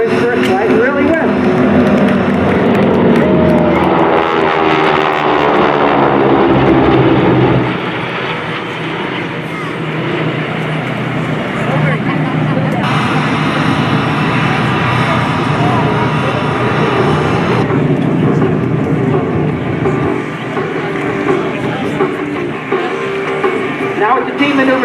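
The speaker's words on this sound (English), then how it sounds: "World War II aircraft in tight formation." World War II aircraft of an airshow team flying in tight formation at a naval air station show, a loud sustained propeller-engine drone that swells and fades, with a voice talking over it.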